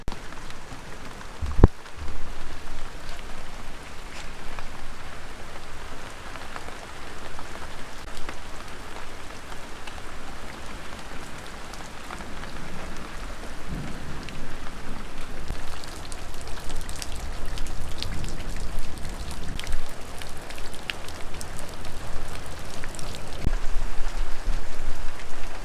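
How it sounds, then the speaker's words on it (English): Steady heavy monsoon rain pours down on a farmstead, a dense continuous hiss of drops that grows slightly louder toward the end, with no voices. "It's been a while since we've had like a really good downpour of rain."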